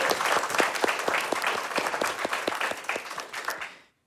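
A round of applause from the audience at the RPG Limit Break 2025 finale for the event's content producers, lively clapping with distinct sharp claps on top that fades out at the end.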